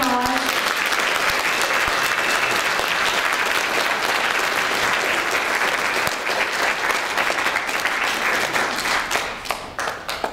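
Sustained audience applause fills a school band Christmas concert hall, dense and steady for about nine seconds before thinning out near the end, with no talking over it.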